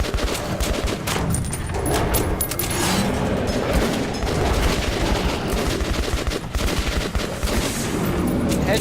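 Dense gunfire from the video game Metro 2033 Redux, with rapid bursts and shots crackling loudly and almost nonstop over a rumbling game background.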